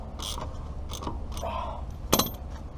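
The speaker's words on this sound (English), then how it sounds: "Tighten all the lugs down with your 21mm." Ratchet clicks from tightening wheel lug nuts with a 21mm socket on a Toyota RAV4, Camry or Celica with a 3S-FE engine, heard as short bursts of clicking with a sharp clack near the end.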